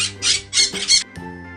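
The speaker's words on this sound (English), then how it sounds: "P for parrot." A parrot gives three loud, harsh squawks in quick succession, close and clear, followed by a shorter faint call.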